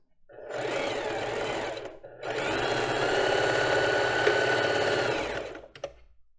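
A sewing machine backstitching a lace bra, running in two steady bursts: a short run, a brief pause, then a longer continuous stretch of close, loud stitching before it stops.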